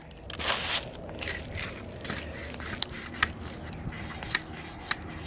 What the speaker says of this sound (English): There's glass right underneath the ground here.